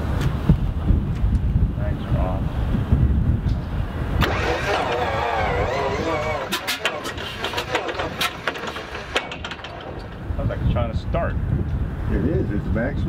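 CAC Wirraway radial aircraft engine being motored through by hand, a rough low mechanical churning that rises and then eases, with people talking nearby and some wind noise.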